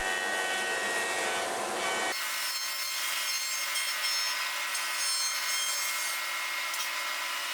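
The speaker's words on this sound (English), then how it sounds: "I now join one face of the railing to even up all my laminations" A jointer flattens one face of a bent laminated wooden railing with a steady, loud, close whirring cut that changes tone partway through and keeps going without a break.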